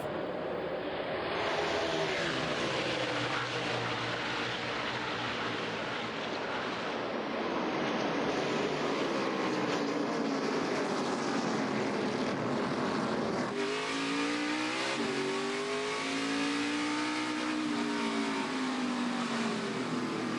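NASCAR Xfinity Series race cars racing at Road America in 2018, a steady loud roar of engines at speed with rising and falling pitch as cars pass, continuous throughout.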